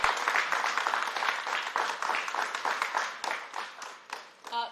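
A theatre festival audience applauds, dense clapping holding steady and fairly loud for several seconds before thinning out and fading near the end.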